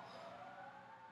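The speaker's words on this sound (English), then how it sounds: "Forgive the sirens." Emergency vehicle sirens wail outside, a steady faint rising-and-falling tone heard from a distance with no speech over it.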